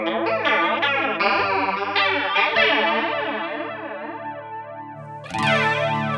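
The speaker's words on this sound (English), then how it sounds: "So you go up in those ranges, that's where you've got your more chorusy flange sounds" An electric guitar played through an Aroma Twister flanger pedal rings out sustained chords with a sweeping, chorus-like flange that swirls up and down, closing with a fresh bright strum.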